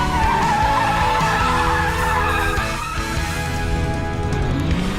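Car tires squealing and skidding hard under braking at a driving school, a loud sustained screech with engine noise running the whole time and no talk.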